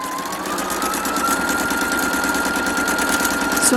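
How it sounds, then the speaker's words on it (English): A sewing machine stitches bias tape onto an IKEA ironing board cover, its rapid needle chatter running continuously and close throughout, with the motor pitch holding steady. "And so we started sewing"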